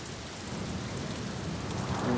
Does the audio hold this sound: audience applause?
no